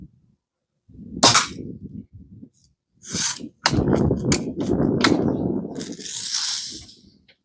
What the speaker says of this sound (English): I wonder how many rounds we've shot already.